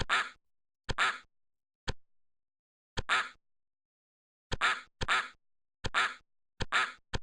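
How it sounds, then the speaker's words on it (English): A duck in a video game quacks over and over, loud and close, with short bursts spaced irregularly and then bunched into a quick run near the end, with nothing else heard between them. "I'm gonna hear this quack in my dreams"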